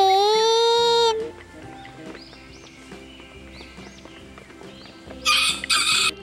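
A hen clucks in a string of short, soft, repeated calls after a brief musical tone, with a burst of brighter sound near the end and no talking.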